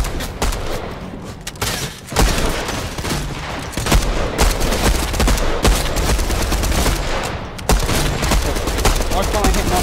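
Rapid gunfire in the Fortnite video game, dense and continuous bursts of shots filling the whole stretch, loud and close with a voice speaking over it.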